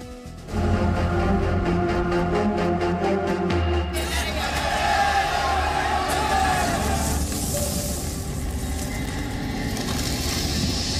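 Rioting crowd on a street in Ranchi, a loud, continuous roar of many voices and street noise with a droning tone at the start, then a dense mass of shouting and clatter that persists throughout.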